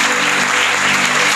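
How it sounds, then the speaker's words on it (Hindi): Congregation clapping at a church service, a brief, dense and steady burst of many hands with a faint musical hum underneath. "जोरदार तालियां बजाइएगा"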